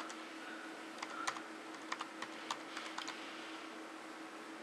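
A computer keyboard is typed on in a quiet indoor room, giving a short burst of about a dozen light, irregular key clicks spread over a few seconds against a faint background hiss.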